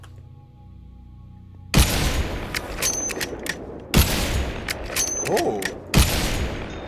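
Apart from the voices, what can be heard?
gunfire from shooting in modded Minecraft video game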